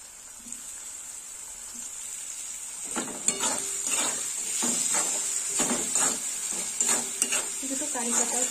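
Chopped tomatoes hit a hot pan with turmeric and oil, and a bright, loud sizzle flares up, followed by repeated stirring and scraping strokes against the pan, close up and without talk.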